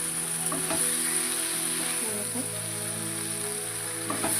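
Spiced vegetables and dried fish (shutki) frying in a pan in a village kitchen, a soft continuous sizzle with faint bubbling, steady and close beneath a constant background hum.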